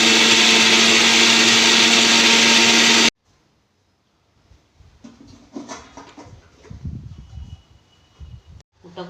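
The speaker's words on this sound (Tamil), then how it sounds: "சீரகம் போட்டு வச்சுருக்கேன் அரைக்க போகிறேன்" A kitchen mixer grinder whirs loudly as it grinds cumin for about three seconds and then cuts off abruptly, leaving quiet rustling and faint kitchen handling sounds.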